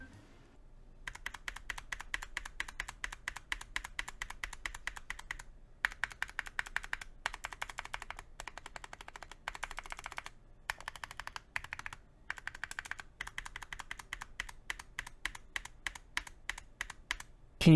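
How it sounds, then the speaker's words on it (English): Rapid bursts of typing on a mechanical keyboard fitted with Cerakey ceramic keycaps. The crazed bottom-row caps clack against each other in sharp, close clicks, with short pauses between runs of keystrokes. "Pressing on most of the bottom row causes the keycaps to hit each other, making this really unpleasant noise"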